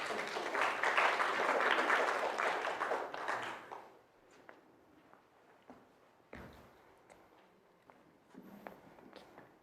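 An audience at a stage show claps for a volunteer coming up: a loud burst of dense applause that fades away after a few seconds, followed by quieter scattered taps and footsteps.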